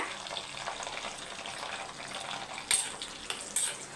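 Brinjal frying in sesame oil in a pan, a steady close sizzle throughout, with a few sharp clinks of a utensil toward the end.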